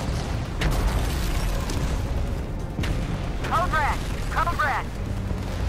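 Missile explosions in Helldivers, a steady roar of booming blasts and bursts with a few sharp pops and warbling tones, while voices talk over the barrage.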